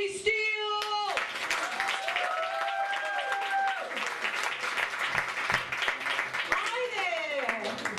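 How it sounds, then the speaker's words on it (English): Audience applause and cheering for a New Orleans comedian taking the stage, continuous clapping under whoops and shouted voices, with some tonal sounds near the start and end. "please give a warm round of applause to Miss Jolie Steele."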